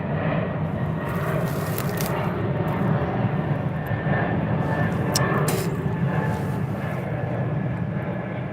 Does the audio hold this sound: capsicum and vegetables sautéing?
no